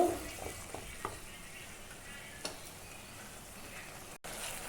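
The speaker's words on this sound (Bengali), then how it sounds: "তো এটা দিয়ে আমি অল্প ভেজে নিব।" Spices and yogurt frying in a pan for an eggplant curry, a steady broadband sizzle running throughout with a few soft stirring clicks near the start, fairly quiet and with no voices.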